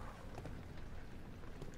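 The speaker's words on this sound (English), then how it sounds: "It's raining outside." In the horror video game Amnesia, a constant faint hiss of rain falls outside, steady and even throughout, with no voices over it.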